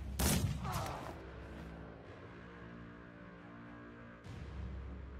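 A warplock firearm in the video game Mordheim fires one sharp, loud gunshot that rings out and decays, followed later by a softer thump and rumble.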